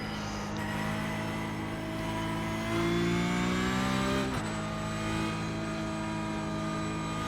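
Porsche Cup race car in the iRacing sim at Suzuka, its engine holding a sustained high whine that climbs in pitch, then drops sharply at a gear change and builds again, close and alone.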